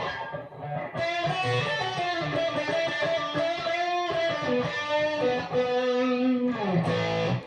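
A distorted electric guitar played through a Vox amp and Ibanez Tube Screamer plays sustained, gritty chords and notes, loud and up close, with no voices.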